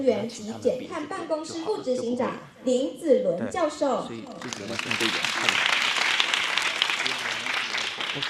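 Someone speaks into a microphone at a Taiwan youth climate forum, then the audience bursts into sustained clapping that welcomes the moderator, a political science professor, and carries on to the end.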